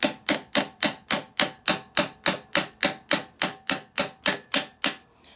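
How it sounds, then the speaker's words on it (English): A copper-tipped hammer tapping a part home during an Ajax milling machine repair, about eighteen even, sharp metallic taps in quick steady rhythm, close and loud with no talk. "Now I just need to tap that home. I have a copper tipped hammer"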